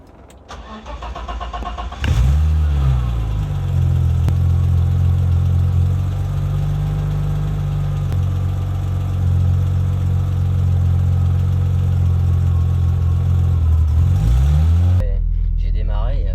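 A BMW E30 running a programmable K-DATA engine management setup cranks and starts, then settles into a loud, steady rumbling idle with slight revs before cutting off abruptly near the end.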